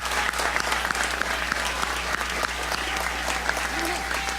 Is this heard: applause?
yes